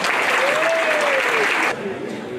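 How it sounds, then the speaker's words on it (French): Steady applause from a crowd, dense and even, with a voice briefly audible over the clapping before it thins slightly. "Je vous demande de les applaudir."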